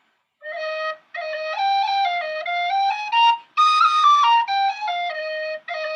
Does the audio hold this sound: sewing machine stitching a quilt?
no